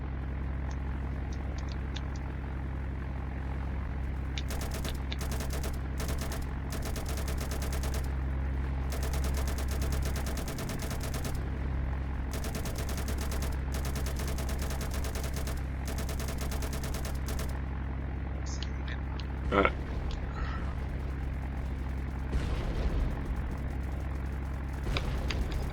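Bombs from a large bomber exploding in a naval warfare game, heard as clusters of sharp bursts and rumbling booms over a steady engine drone, with one stronger thump near the end.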